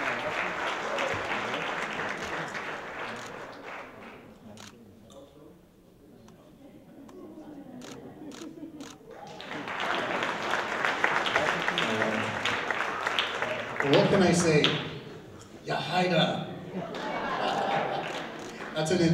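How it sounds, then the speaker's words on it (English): Audience applause at a senior class event, sustained clapping from a crowd that fades mid-way, then swells again loudly, with a voice speaking over the clapping near the end. "So let's give her a big round of applause."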